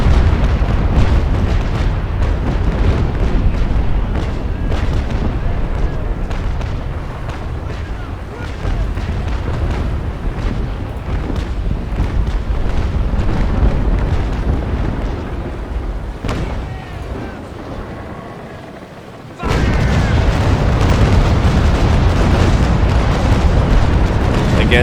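Naval Action sailing ships fire their cannons in a loud, continuous barrage of booming shots that rumble and overlap for most of the stretch, briefly dropping away before another heavy volley bursts in at full strength.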